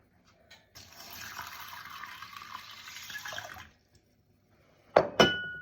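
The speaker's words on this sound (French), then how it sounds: "Et lavez les lentilles." Running water pours steadily for about three seconds as lentils are rinsed for an Indian dish, then stops, followed by two sharp clinks of glass or metal near the end.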